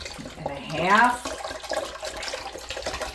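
Vinegar being poured into reserved beet juice, a short gurgling, splashing pour rising in pitch as the container fills, close and moderate in level, followed by a quieter background with faint room noise.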